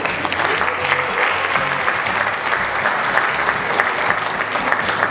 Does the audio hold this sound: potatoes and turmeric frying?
no